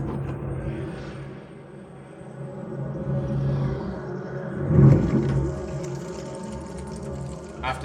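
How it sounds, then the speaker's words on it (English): THX Deep Note trailer played through Edifier E25HD computer speakers: a dense, sustained swell of layered low drone tones that builds, with a loud surge near the middle before settling into a steady hum. "We're now going to test the THX Deep Note trailer."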